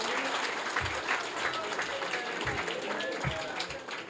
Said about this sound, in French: Je voudrais demander, avec beaucoup de respect, à tout le monde d'applaudir Souleymane.